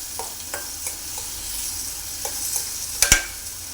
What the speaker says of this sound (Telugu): ఇందులోనే మనం టమాటా ముక్కలు కూడా వేసుకుందామండి పచ్చి వాసన పోయే వరకే